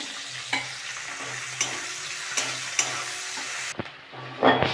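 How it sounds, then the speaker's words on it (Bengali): Prawns frying in a pan with ginger paste, a soft continuous sizzle broken by several sharp stirring scrapes at irregular intervals, fairly faint and close, with no voices. "চিংড়ি মাছটা একটু ভেজে নিয়েছি আদা বাটা দিয়ে দেবো"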